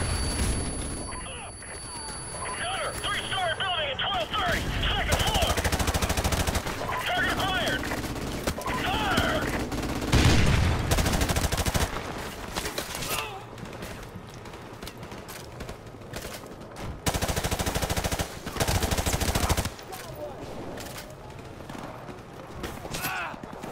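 Gunfire from a favorite weapon in Call of Duty Modern Warfare Remastered, dense bursts of shots and loud blasts layered with game effects and music, a voice talking over parts of it.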